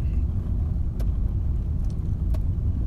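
Car driving off-road on rough ground at Al Qudra Lake, a constant low rumbling hum of vibration inside the cabin with a few faint rattles.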